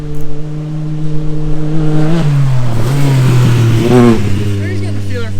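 A Yamaha YXZ 1000 side-by-side accelerates close by on a trail, its engine rising through revs with clear gear changes and a steady climbing pitch, loud and near, while someone talks over it.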